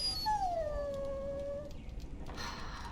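A dog in the fantasy role-playing game Dragon Age: Origins lets out a single long, descending whimpering whine, close and clear over a steady low background hum.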